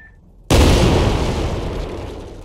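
An artillery gun in a VR training game fires a single loud, sudden boom from near silence, followed by a long rumbling decay.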